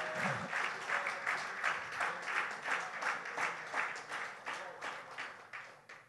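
A church congregation applauds during a sermon, with sustained clapping that rises and falls in loose waves and a few shouts mixed in, fading slightly toward the end.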